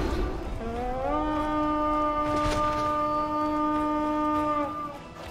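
A victory horn sounds after a raid in Assassin's Creed Valhalla, one long, deep, sustained blast lasting about four seconds. It is loud and steady, then fades out, with no talk over it.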